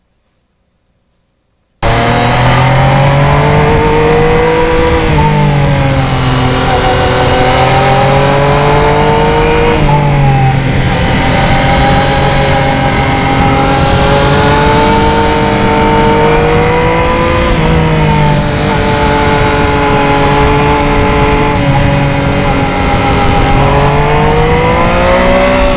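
A 2020 Yamaha MT-09 motorcycle rides along a winding road, its engine loud and close with a steady drone. The pitch swells and dips through gear changes and throttle, after about two seconds of silence at the start.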